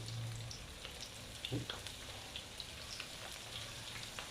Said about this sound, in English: you want to fry them just until they're golden